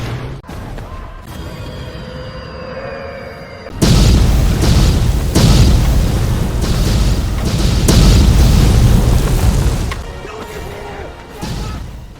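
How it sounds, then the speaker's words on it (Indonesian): Heavy explosions from bombs dropped by American bombers in a wartime battle scene, a loud sustained barrage of booming blasts and crashing debris that swells after a quieter start and eases off near the end. "pengebom Amerika segera menghujani area tersebut dengan bom"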